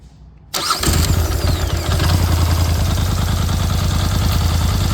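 A Polaris Sportsman 850 ATV, recently fixed after an engine knock traced to the flywheel, cranks briefly and fires up, then settles into a loud, steady, close-up idle with an even rhythmic chug.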